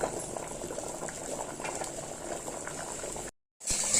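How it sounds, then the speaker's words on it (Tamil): A pot of chili kuzhambu curry boils on the stove, giving a soft, steady bubbling and simmering hiss close by that is briefly cut off near the end. "ஒரு 2 நிமிஷம் கொதிக்கட்டுங்க, ட்ரான்ஸ்ஃபர் பண்ணிடலாம்."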